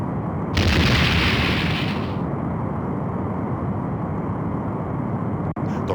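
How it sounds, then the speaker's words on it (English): A Romulan Warbird blows up in the DOS game Star Trek: The Next Generation – A Final Unity, a loud hissing burst over a deep rumble that fades after about two seconds into a steady low ship hum. "The Romulan Warbird has been destroyed."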